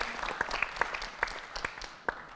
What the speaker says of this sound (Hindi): तो एक बार जोरदार ताली उनके लिए बना दीजिए